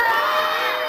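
A crowd of children cheers and shouts loudly together at a French kids' show, a bright burst of massed young voices celebrating the boys' win that fades slightly toward the end.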